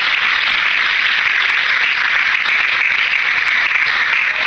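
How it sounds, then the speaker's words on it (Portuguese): A church congregation applauds during a sermon, a steady, dense wash of clapping holding at an even level from start to finish with no voices on top. "Você pode aplaudir o Senhor por isso?"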